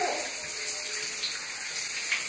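A shower sprays steadily during a child's bath, a continuous hiss of falling water filling the whole stretch with faint voices underneath.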